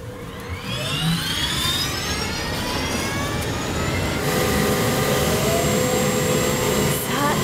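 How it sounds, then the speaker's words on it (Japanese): A steady turbine-like roar with rising and falling whine tones, continuous and loud, as an SH-60K helicopter's four-blade rotor and engine spin up. "いよいよローターが回り始めました"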